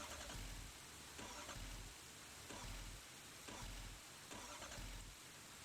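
A rollback truck's engine cranks in Farming Simulator, with a repeated starter whir that rises and falls in an even rhythm, fairly quiet under a steady hiss, and it does not yet catch.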